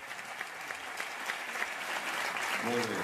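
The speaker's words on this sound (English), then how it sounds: "a strong, worthy, well-earned round of applause for those people" An audience at a foundation event for a new pediatric facility claps in a soft, even round of applause, fairly distant, with a voice beginning to speak near the end.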